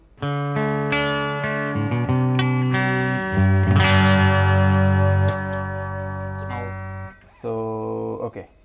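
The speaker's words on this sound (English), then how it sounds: "so here's the clean tone" A Les Paul-style electric guitar played with a clean tone, sustained chords and single notes ringing out steadily with a short pause near the end.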